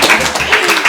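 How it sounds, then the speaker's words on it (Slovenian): A studio audience on a Slovenian TV show applauding a guest's husband, a dense, loud wash of many hands clapping close together. "dajmo aplavz še za moža"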